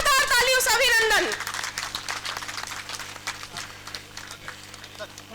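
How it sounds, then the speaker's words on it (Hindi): Crowd applause greets Union Minister R.K. Singh at a foundation-stone ceremony for the Jagdishpur entrance gate in Bhojpur. A voice is heard briefly before dense, steady clapping takes over and continues to the end. "जोरदार तालियों से अभिनंदन"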